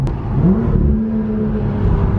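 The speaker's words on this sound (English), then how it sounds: "It sounds like a much bigger car, doesn't it?" A BMW M2 engine drones steadily while driving through city streets, loud and close with a deep low hum and a slight rising pitch as it pulls, echoing off buildings.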